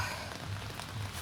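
Steady rain falls at a London graveyard, a dense, even hiss of drops pattering on surfaces with a faint low hum beneath and no voices.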